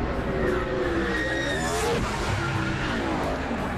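A race car skids toward the wall with squealing tires, its engine roaring loudly and continuously under a dense, noisy track backdrop.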